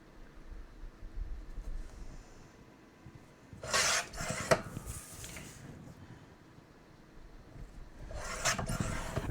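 Scissors slicing through paper to trim a 3.25 inch square, a few short crisp snipping bursts spaced apart, close and fairly loud in a quiet room.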